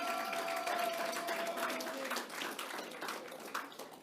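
Thick, steady applause from a club audience honoring newly installed officers, holding at full strength before thinning slightly toward the end, with a faint thin tone at the start.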